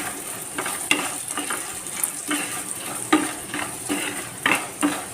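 Cubed potato and spinach dusted with chili powder stirred in a frying pan, a low steady sizzle broken by repeated scraping and clinking of a metal spoon against the pan in an uneven rhythm.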